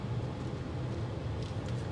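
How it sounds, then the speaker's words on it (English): Steady low road and tire rumble inside a 2026 Kia Sportage SX Prestige cruising at highway speed with acoustic side windows, a continuous broadband hum filling the cabin with no talk. "Road noise does filter in once you start going around 50 to 60 miles per hour"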